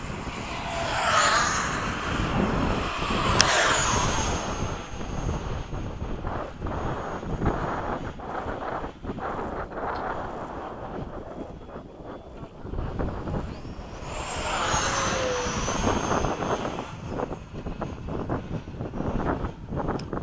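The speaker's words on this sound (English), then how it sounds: "Is that a real jet engine in there? Real turbine, baby!" A jet-turbine F/A-18 is flown in a mock dogfight against an F-4, with a steady roaring engine drone over gusty wind noise and two swelling whooshes as it passes close by.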